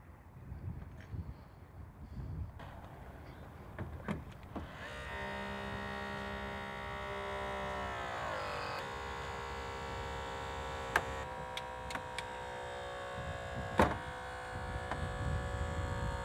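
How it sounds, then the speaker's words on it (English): A Holmatro hydraulic combi tool cuts through a car's upper B-post in a vehicle side-removal rescue, its steady, loud hydraulic whine rising and dropping in pitch as the blades close, with sharp metallic cracks as the pillar gives way. "Come to the upper B-post, make the cut"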